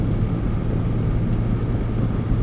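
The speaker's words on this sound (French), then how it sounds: "on reprend une accélération légère mais constante" A Porsche Boxster engine on a race track pulls under light, steady acceleration, a continuous droning hum heard from inside the car, moderately loud and unchanging, with no voices.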